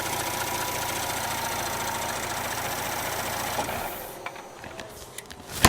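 An Audi SQ5 with a 3.0L TFSI turbocharged V6 (CWGD) at about 40,000 miles idles steadily just after a spark plug change, then is switched off, leaving a few faint clicks and taps in near silence.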